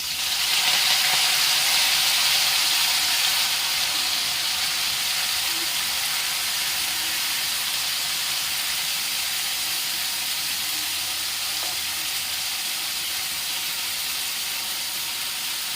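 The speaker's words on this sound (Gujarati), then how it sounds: "લસણ લાલ થઈ ગયું છે, તો હવે આપણે એમાં ભાજી ઉમેરી દઈશું." Fresh vaseti greens hit a pan of browned garlic, giving a loud, steady frying sizzle and hiss that begins strongly and then holds evenly throughout, close up with no talking.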